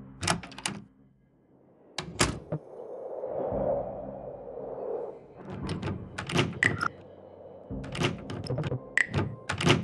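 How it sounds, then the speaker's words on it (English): In a game, a door to a lounge opens with sharp clicks and clunks, a sliding scrape and repeated thuds spread over several seconds, loud and close, with a low hum between. "The door to the lounge."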